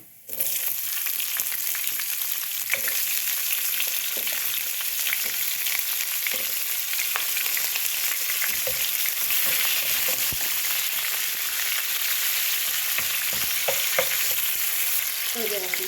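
Onions and chana dal sizzle steadily in hot oil for hotel-style vermicelli upma, a loud continuous broadband frying hiss with scattered stirring clicks and scrapes throughout, no voices.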